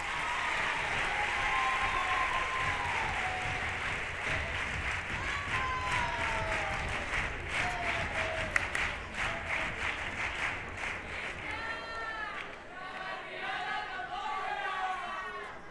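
A festival audience in Cádiz applauds loudly and steadily, the clapping mixed with cheers and shouts, while voices chatter and call out over the crowd noise.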